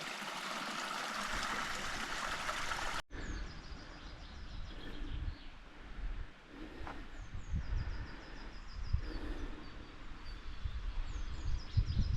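Running water of a mountain stream in the Mili gorge, with small pools and little waterfalls, flowing as a steady close rushing trickle throughout, with faint bird calls above it and a sharp break in the first seconds.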